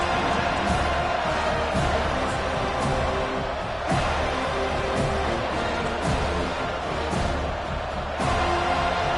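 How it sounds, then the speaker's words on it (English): A packed football stadium crowd roars at full throat without letup, a dense, loud wall of cheering with a few sharper swells and thumps rising through it. "This crowd, full throat, splitting the eardrums"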